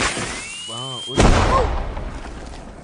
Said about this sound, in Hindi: तुम पटाखे इस्तेमाल कर रहे हो?